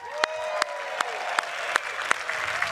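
A distant crowd in downtown Detroit claps in a steady, rhythmic beat with a faint wash of cheering behind it, at the premiere of the seventh-generation Ford Mustang.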